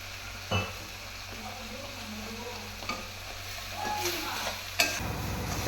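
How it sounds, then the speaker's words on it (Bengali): A spatula stirs prawn malaikari in a pan after salt and turmeric go in, giving a soft, steady sizzle broken by a few scraping clicks of the utensil against the pan, heard close and without talk. "আমি এটা ভালো করে খুঁটি দিয়ে নেড়ে ছেড়ে দেবো"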